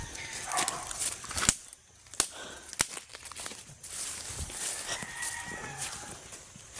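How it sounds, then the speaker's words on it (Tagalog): A dog barks repeatedly outdoors in sharp, uneven bursts, with a farm-like background that includes fowl. "papalakas ng papalakas yung tahol ng aso"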